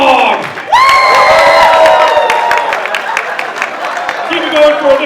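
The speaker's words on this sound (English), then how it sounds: "Big round of applause for Krypto the Dog." Loud audience cheering, whoops and applause at a comedy roast, a dense continuous crowd roar with shouted voices rising over sustained clapping throughout.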